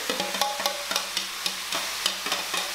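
Morning glory greens thrown into smoking hot oil, with a bright crackling sizzle and quick repeated tossing and scraping strokes in the pan over a short burst, close and fairly loud.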